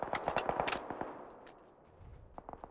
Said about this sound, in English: Shot a couple bullets.